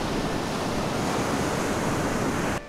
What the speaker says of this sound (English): there's quite cool waves over there, so I'll film that